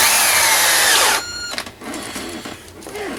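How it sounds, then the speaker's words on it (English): A tiny drill bit whines at high pitch while boring into a GameCube plastic shell, loud and close for about a second before stopping, followed by softer scraping and handling noises. "Tiny, tiny drill bit."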